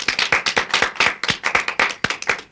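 An audience applauds a singer after a song honouring another singer on a 1979 radio broadcast, with close, steady clapping in quick rhythmic bursts for a couple of seconds and no talk over it.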